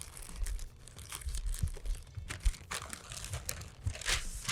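Crinkling wrap rustles and crunches as a smoked pork butt is rolled and folded, steady close handling noises with irregular crisp bursts and no talking.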